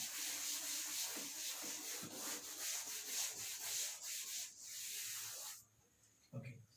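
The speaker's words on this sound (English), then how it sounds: "Now for this I have to rub the first part." A blackboard or whiteboard being rubbed clean, steady back-and-forth scrubbing strokes up close and fairly loud for several seconds before stopping abruptly, followed by a brief faint thud.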